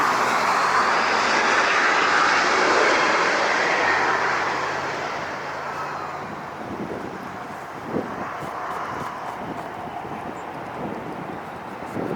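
Southwest airliner landing at LAX, a loud roaring engine and wind rush that gradually fades to a lower rumble as the jet slows, with a brief thump later on.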